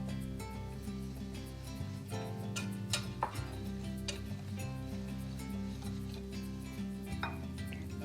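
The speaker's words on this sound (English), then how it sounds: "Then you'll whisk these together." Flour, cinnamon, baking powder and salt being whisked in a bowl for maple pecan oatmeal cookies, heard as soft scraping and light clinking strokes under steady background music.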